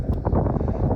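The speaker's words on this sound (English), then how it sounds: "it's windy and it's a cold wind" Gusty cold wind on Scafell Pike in the Lake District buffets the microphone in low, rumbling bursts, close and fairly loud, with no one speaking.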